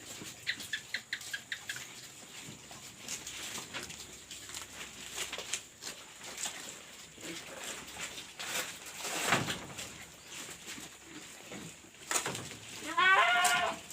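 A goat feeds on banana leaves with soft rustling and scattered chewing and tearing sounds over a quiet outdoor background. Faint bird-like chirps come in near the end.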